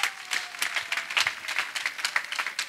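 Steady applause from a church congregation, many hands clapping in a dense, continuous patter throughout, fairly close and moderately loud.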